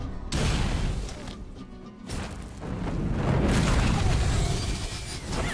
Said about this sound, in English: Why do they always do corpse explosion?